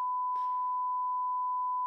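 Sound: beep sound effect played from a sound pad

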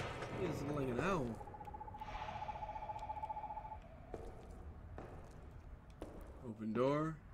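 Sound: owl-like hoot in Perception video game

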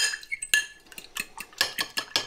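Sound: whisking eggs in a bowl

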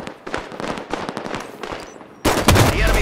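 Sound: gunfire in the video game Halo 5: Guardians

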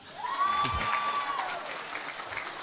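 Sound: audience applause at political launch

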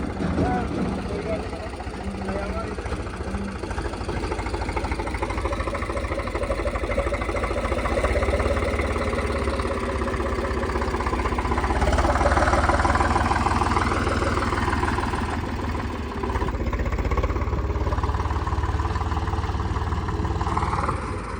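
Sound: farm engine idling after being started

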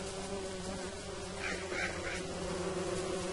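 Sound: bees buzzing from a video game

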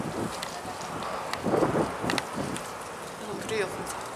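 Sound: wind blowing into microphone

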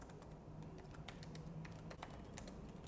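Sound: typing an email message in MS Outlook on a keyboard

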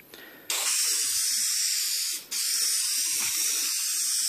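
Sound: spraying adhesive onto car door panel

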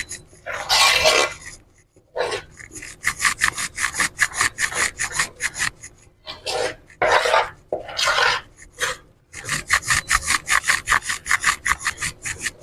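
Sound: stirring besan barfi mixture in a pan

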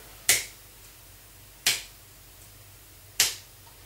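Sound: finger snap controlling presentation

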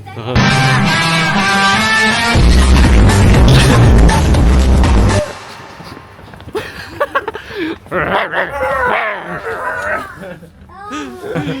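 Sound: children imitating dog barking

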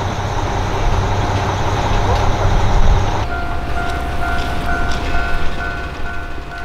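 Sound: train with Tetsudō Musume character wrap arriving at platform

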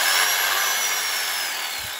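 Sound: power drill drilling into barn door

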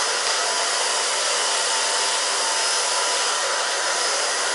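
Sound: hair dryer blowing hair on low setting

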